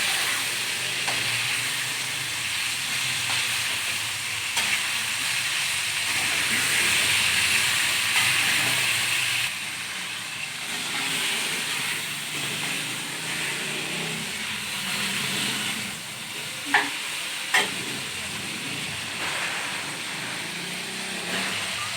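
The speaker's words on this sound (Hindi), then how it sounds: "चिकन को तब तक पकाना है जब तक इसका कलर चेंज नहीं होता।" Chicken frying in oil in a karahi gives off a steady, close hiss and sizzle, slightly louder for a stretch and then settling, with a couple of brief metallic clinks near the end.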